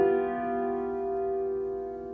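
Sustained keyboard chords move through a half cadence from the one chord to the five-seven chord, held as rich harmonic tones at steady moderate volume with no voices.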